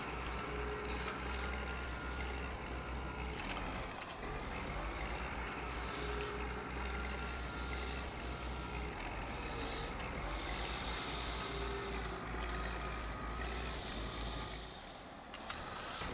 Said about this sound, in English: Love the sound of this tractor.